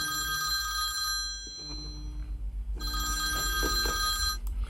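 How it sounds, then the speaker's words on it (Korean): A mobile phone rings with a withheld-number call, a repeating electronic ring tone that stops briefly and then starts again, steady and fairly close, with low background hum and no talk. "또다시 호프만의 핸드폰으로 발신 번호 표시 제한 전화가 오는데"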